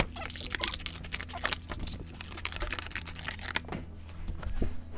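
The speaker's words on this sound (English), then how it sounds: "All that's left is to cut it out, tear it out, and cut a nice smooth edge." Paper being torn and cut out by hand, giving irregular close crinkles, rips and snips over a low steady hum, with no speech.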